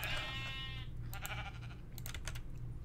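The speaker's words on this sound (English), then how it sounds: "And lots of sheepy sheep." A sheep bleats once, loud and near, in a spruce forest in a video game, followed by a rapid clicking like computer keyboard typing.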